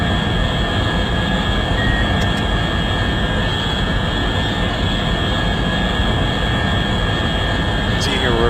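Scramjet engine accelerating a spacecraft at around Mach 13 in the space simulator Orbiter 2016, a steady, loud, unbroken roar with a faint high whine running throughout.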